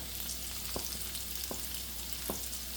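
Sliced medium onions with salt sizzle steadily in a pan for an Afghani egg curry, a constant close frying hiss broken by three soft spoon strokes.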